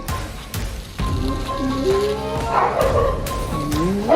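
A dog barks several times nearby, short yips mixed with whimpering, while people talk in the background.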